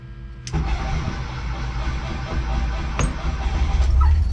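A Volkswagen engine cranks and fires back up after a pause, catching quickly and then settling into a loud, steady close-up running rumble that builds slightly toward the end.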